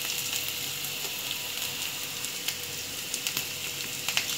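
Onions and a couple of torn dried red chillies frying in oil for radish sambar, giving a steady close sizzle with a few small crackles and pops near the end.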